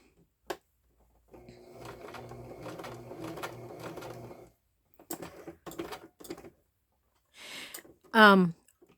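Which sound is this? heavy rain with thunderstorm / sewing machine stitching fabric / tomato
sewing machine stitching fabric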